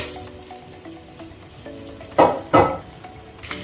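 Cinnamon, cloves and cardamom fry in a hot pan for coconut rice. A soft steady sizzle runs throughout, with two loud hissing bursts near the middle as the spices are stirred, and no talking.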